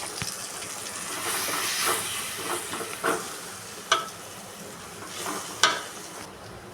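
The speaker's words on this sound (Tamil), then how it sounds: "அப்படியே அடுப்பை லோ ஃப்ளேமில் வச்சு நல்லா மசாலா பச்சை வாசம் போகிற வரைக்கும் கிளறி விட்டுருங்க" A utensil stirs and scrapes through masala sizzling in a hot pan over a low flame, with a few sharper clinks against the metal.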